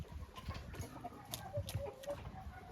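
Young hens cluck softly in a backyard coop, with scattered short calls and low murmuring over faint rustling, fairly quiet and slightly distant.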